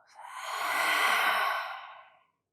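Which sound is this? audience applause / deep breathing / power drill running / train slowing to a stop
deep breathing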